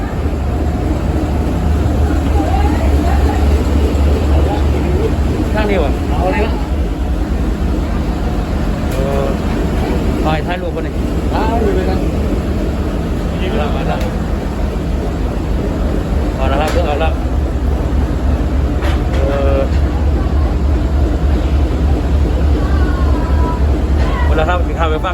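A ferry boat crossing the harbour in Hong Kong, with a steady low engine rumble and broadband water and deck noise running throughout, under nearly continuous nearby talk.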